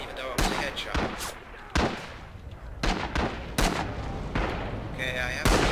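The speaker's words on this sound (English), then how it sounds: "most of the firearms that they have are bolt action rifles" Bolt-action rifle fire in the Rising Storm/Red Orchestra 2 video game: several sharp, loud single cracks spaced about a second apart, each with a rumbling tail, under a steady battle-noise bed.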